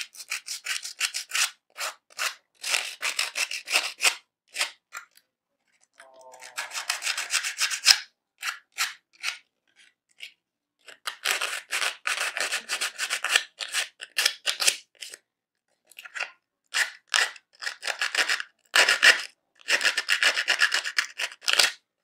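Sandpaper rubbed back and forth over an armor piece being built for an ARC Trooper costume: bursts of close, gritty scraping strokes in quick runs with short pauses, loud and without talk.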